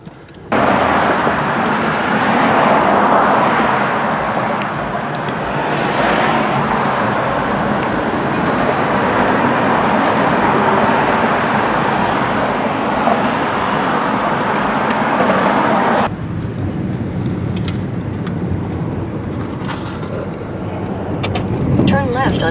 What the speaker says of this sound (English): now I'm stuck in traffic